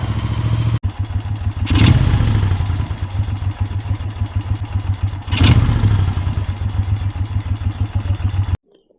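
A Moto Guzzi Le Mans MK1 motorcycle engine idles while warming up, with a steady, loping low rumble, blipped up twice into brief revs before settling back, then cutting off abruptly at the end.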